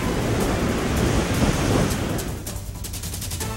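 Dense, steady roar of heavy typhoon rain in Laguna, Philippines, filling the whole clip, broad and continuous, easing slightly in the last second.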